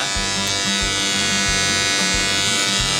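A steady, harsh electric buzz hums continuously from a Falcon ADVAN AC/DC TIG welder arc with filler wire being added, a rhythmic crackling pulse underneath, running without pause.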